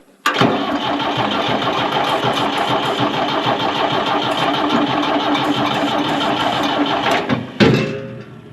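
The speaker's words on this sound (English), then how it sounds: "when I was trying to fire up my old Ford 5000" An old Ford 5000 tractor engine cranks and catches, then runs with a loud, steady rough rumble at close range for several seconds before cutting off abruptly, followed by a short burst.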